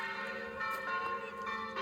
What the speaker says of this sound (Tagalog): Tumutunog na ang kampana, guys.